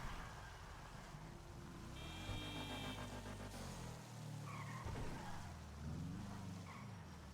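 A car in GTA V slides sideways with tires skidding while the engine drones steadily and loudly throughout, with no voices.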